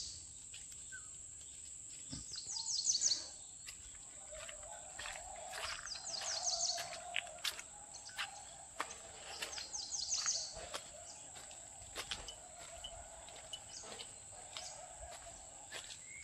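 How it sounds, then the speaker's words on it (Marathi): Birds call in the Konkan countryside on a morning outdoors, with repeated short chirping bursts over a constant high insect drone, the calls fairly faint and spread through the scene with no voices. "खूप भारी वाटतं आहे वेगवेगळ्या पक्ष्यांचे वेगवेगळे आवाज ऐकताना"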